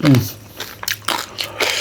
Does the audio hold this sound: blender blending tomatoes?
no